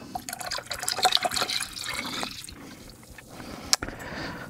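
Water poured into a bowl of salmon brine with white wine, a steady splashing pour with dripping, close and fairly loud.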